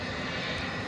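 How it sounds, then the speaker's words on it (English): Steady broadband roar of a Spirit Airlines jet engine at Dallas/Fort Worth International Airport in the evening, continuous and fairly loud with no voices over it. "as we see our first Spirit aeroplane of the evening"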